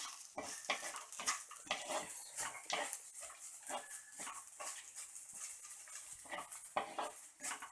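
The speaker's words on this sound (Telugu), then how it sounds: "ఇప్పుడు దీన్ని మంచిగా స్టవ్ ఆఫ్ చేసుకొని సర్వింగ్ బౌల్లో తీసుకున్నాము" Crispy okra (bendakaya) fry, finished with the stove off, is spooned from the pan into a serving bowl. Quick, repeated scrapes and clinks of a utensil against metal come in a busy, uneven rhythm, close and fairly clear.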